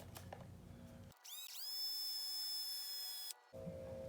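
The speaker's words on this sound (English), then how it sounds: "just lightly chuck it into the drill" A power drill spins up and whirs steadily for about two seconds with a small Traxxas 2WD transmission part held lightly in its chuck, the motor loud and close with a bright rising whine before it cuts off.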